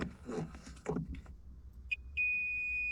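Electrical circuit tester beeps while grounding a car wire during an LED install on a Mazda Miata, a short beep followed by a steady high-pitched tone that begins after a person speaks briefly.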